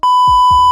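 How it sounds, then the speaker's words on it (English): A single electronic alarm beep sounds as a steady, loud pure tone lasting under a second, with brief low thumps or breath-like noises beneath it. "my alarm just went off"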